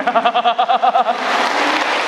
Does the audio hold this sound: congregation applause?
yes